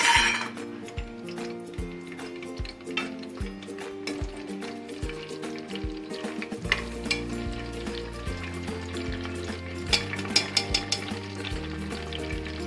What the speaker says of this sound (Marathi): ते खडे मसाले याच्यात टाकून द्यायचे, सगळे परतून घ्यायचे खडे मसाले